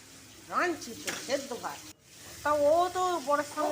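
Prawns with four to five spoons of poppy seed paste sautéing in a pan, a gentle sizzle with stirring running under a person talking.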